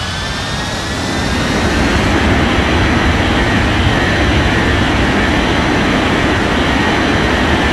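An Air Portugal airliner taking off in an air traffic control game, the jet engines swelling into a steady, loud roar with a thin high whine on top.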